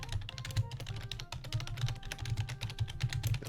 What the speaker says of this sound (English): The typing has begun.